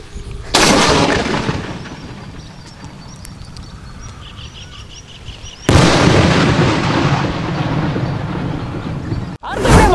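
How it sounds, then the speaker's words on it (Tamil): A high-powered gun-out firecracker goes off outdoors in a village, two loud sudden blasts each trailing into a long crackling, hissing decay, with another burst starting right at the end. "அடுத்தபடியா நம்ம வெடிக்க போற வெடி என்ன அப்படின்னு கேட்டீங்கன்னா வந்து ஹை பவர்டு கன் அவுட்"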